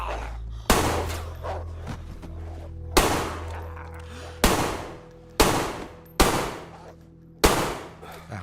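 Gunfire in DayZ: seven loud, separate shots spaced about a second apart, each a sharp crack with a ringing tail, over a low steady hum and no talk.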